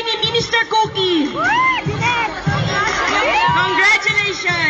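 A crowd of children and adults cheers and shouts at a Youth for Christ sports prize-giving, loud and continuous with rising whoops and rhythmic clapping-like bursts throughout.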